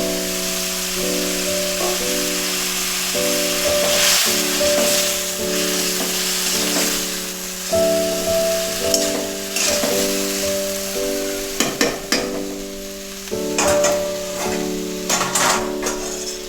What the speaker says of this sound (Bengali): তারপর মেখে রাখা আলু বেগুন যে মশলা দিয়ে মাখিয়ে